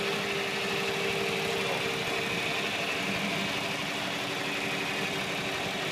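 A turbo diesel vintage tractor at a tractor show, engine running steadily at a continuous loud droning idle with an even rumble throughout and no breaks.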